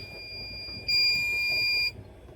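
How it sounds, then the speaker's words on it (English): A Bosch WAE28366GB washing machine gives its end-of-cycle signal: one loud, steady electronic beep lasting about a second, sounding alone. "I think this one is the end beep."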